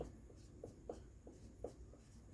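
A pen scratches across paper in short strokes, quiet and close, tapping and sliding in an irregular rhythm with no voices over it.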